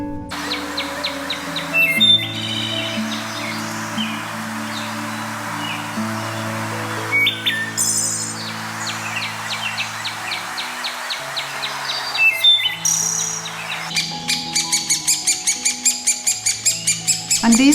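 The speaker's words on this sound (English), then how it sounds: "And a beautiful wood thrush in her nest." A wood thrush sings in a North American damp forest, near and clear, with repeated fluting phrases over a steady background of sustained tones and later rapid rhythmic pulses.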